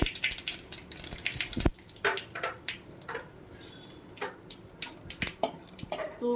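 Whole cardamom, cinnamon, bay leaf, cumin and a dried chilli fry in hot oil, giving close, irregular crackles and spits over a low hiss.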